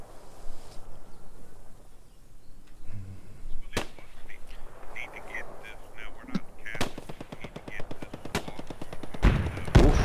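Gunfire in Post Scriptum, a military shooter game: several sharp, loud shots ring out at irregular intervals, with a denser burst of rapid fire near the end over a steady background rumble.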